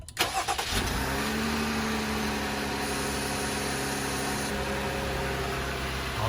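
A Jeep JL Wrangler engine cranks briefly and catches after an auxiliary battery replacement, then settles into a steady, close idle hum that carries on to the end.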